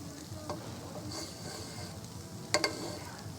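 Homemade carrot pulao is stirred in a pan over a soft, continuous sizzle, with faint spoon scrapes and a brief sharper clatter near the end.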